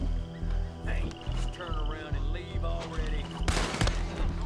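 Rifle gunshots ring out in Red Dead Online, a few sharp cracks spaced apart amid game music and ambient sound, with a louder burst near the end.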